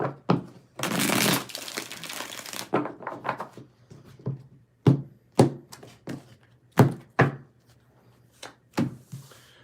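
A deck of tarot cards being shuffled by hand: a dense riffling burst early on, then a series of sharp, close taps and thumps as the cards are squared and cut, with no talking.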